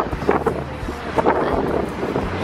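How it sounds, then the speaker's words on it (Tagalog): Strong wind buffets the microphone with a steady, heavy roar that rises and falls in gusts, with no voices. "Napakalakas ng hangin"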